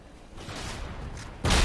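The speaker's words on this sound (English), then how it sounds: "Tank cannon." A tank cannon fires in the Halo Reach video game, a sudden heavy boom that bursts in near the end after a stretch of rumbling, muffled game noise.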